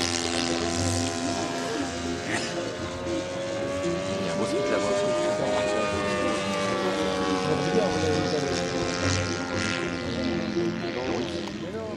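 A combustion-engine model airplane buzzes continuously at a model-flying meet, its whining engine note rising and falling as it passes, with people chatting nearby over the drone.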